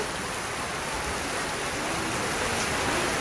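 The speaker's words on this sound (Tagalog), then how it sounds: "Grabe itong ulan." Heavy rain pours down during an outdoor immunization day in the Philippines, a dense, loud, continuous hiss of drops on surfaces with no break and no voices.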